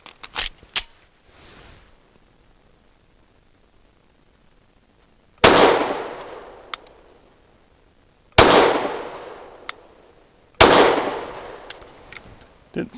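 A Canik METE MC9 pistol fires Fiocchi Defense Dynamics 147 grain rounds outdoors: a few sharp early pops, then three loud, widely spaced gunshots, each with a long decaying echo and light metallic clinks between them.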